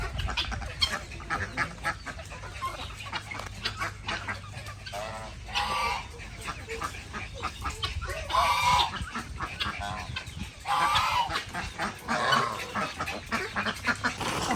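A flock of ducks and geese quack and honk in repeated bursts, loud and close, with busy overlapping calls and scattered clucks.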